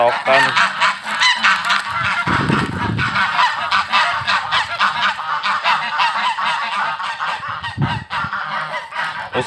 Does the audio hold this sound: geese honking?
yes